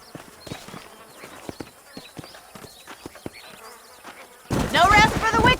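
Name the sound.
horse hooves clip-clopping in Red Dead Redemption video game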